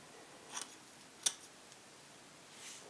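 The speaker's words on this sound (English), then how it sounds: "And then go in with your scissors and do the exact same thing." Scissors make a few sharp, close snips while trimming hair bangs, set apart by quiet pauses in an otherwise still room.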